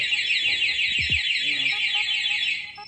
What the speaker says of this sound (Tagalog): Okay, isa pang galaw, mag-alarm na po yung remote.